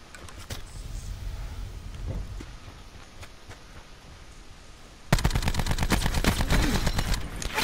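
Automatic gunfire in Call of Duty Blackout, scattered distant shots at first, then a loud, rapid burst of closely spaced rounds from a hard-recoiling weapon in the last few seconds, with no voices.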